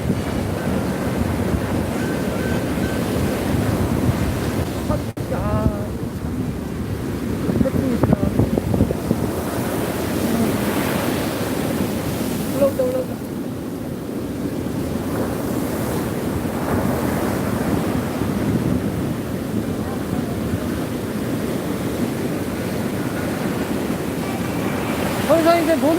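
Ocean surf rolling onto Naksan Beach at night, a steady loud wash of breaking waves with wind buffeting the microphone throughout, no voices.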